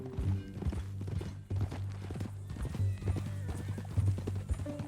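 Horse hooves clip-clop in Red Dead Redemption 2, a steady walking rhythm of close, distinct hoofbeats with a faint tonal hum underneath.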